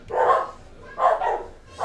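Three short dog barks ring out at an even pace, moderately loud and near, with no voices around them.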